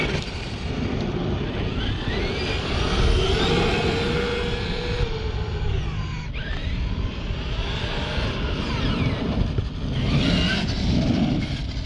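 A Traxxas X-Maxx RC truck drives with its lifted wheels spinning freely in the air, a steady whirring motor whine with rising and falling pitch sweeps, fairly close and continuous throughout.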